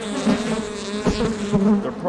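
Guard bees buzz loudly and continuously around an opened hive, the close, droning hum swelling in brief surges as they circle near the microphone.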